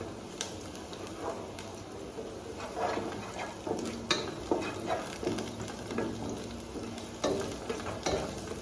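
Sliced onions frying in a pan for Yemeni mandi, a soft constant sizzle with repeated scraping stirs and light utensil knocks against the pan, close and alone.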